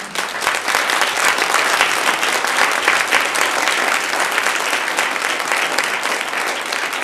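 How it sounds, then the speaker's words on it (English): A room full of people applauds at a congressional candidates forum held at a community college, with thick, even clapping that stays loud and constant throughout without fading. "This is your first opportunity to applaud if you'd like."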